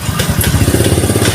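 A motorcycle's electric starter cranks a stiff engine that does not catch, giving a steady rapid chugging thud for the whole stretch, close and loud with no voices.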